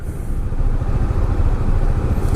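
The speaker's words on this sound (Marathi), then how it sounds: "जयपूरची ट्रॅफिक." City traffic in Jaipur heard from a KTM motorcycle on the road: a steady, loud low engine rumble and road roar with the hum of surrounding vehicles, no distinct horns.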